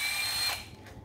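A Japanese-market cordless hammer drill on a 14V battery whines at high speed and then winds down, close and loud for about a second.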